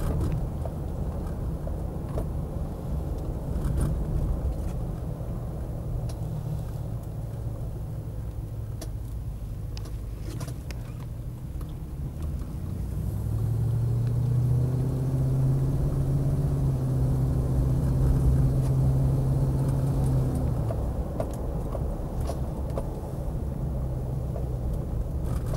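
A Land Rover Defender 90 50th Anniversary runs with a deep, steady engine rumble for a long stretch, swelling louder and rougher midway before settling back to a constant drone.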